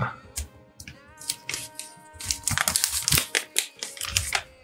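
Cardboard and plastic wrapping of a Xiaomi Redmi Note 11E Pro phone box crinkle and crackle as it is opened, with a run of close, busy rustling bursts and a few soft thumps.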